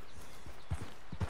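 Horse hooves clip-clop in a quick, steady trot in Red Dead Redemption 2, short and close.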